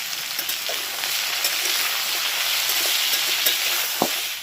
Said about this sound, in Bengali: আলুটা নাড়তে নাড়তে অনেকটা যখন ভাজা হয়ে যাবে